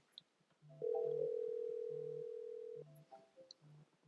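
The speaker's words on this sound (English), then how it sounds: "The call has arrived here, but I'm not going to answer because I want to demonstrate voicemail." An incoming call rings in turboDial phone software: a steady two-second electronic tone set between short repeating beeps, clear and alone in a quiet room.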